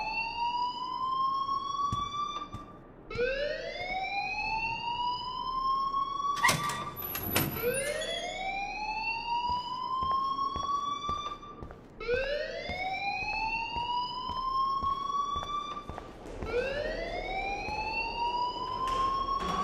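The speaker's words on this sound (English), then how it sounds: "please turn off that alarm since that's your job" A school alarm in the video game Life is Strange wails in repeated rising electronic sweeps, each a few seconds long, loud and steady, with a brief clatter partway through and no talking.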